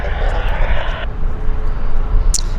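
An Air Canada airliner bound for Shanghai at Vancouver airport produces a loud, continuous low engine roar with broadband rush. A brief brighter noise burst comes near the end.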